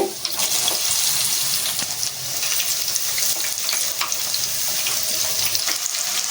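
Garlic and mustard seeds fry in hot oil for pickle tempering, a loud, steady crackling sizzle with scattered sharp pops running throughout, no voices.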